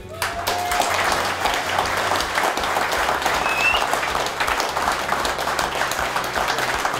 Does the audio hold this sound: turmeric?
no